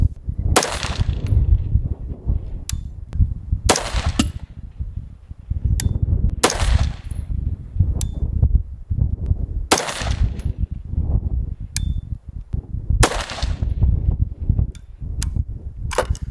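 An AR-15 rifle fires Fiocchi 77 grain Sierra MatchKing rounds at a long-range outdoor range. Sharp, loud shots come at irregular intervals a few seconds apart over a steady background rumble.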